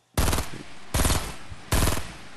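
Three loud bursts of rapid automatic gunfire from the video game Fortnite, each lasting about half a second with brief gaps between, heard alone without any talking.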